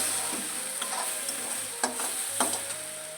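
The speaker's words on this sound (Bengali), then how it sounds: "তো নাড়াচাড়া করে তখন নামিয়ে নেব।" Tomato chutney with sugar cooking in a pan, a steady bright sizzle with a handful of brief scraping stirs against the pan, close and moderately loud, no speech.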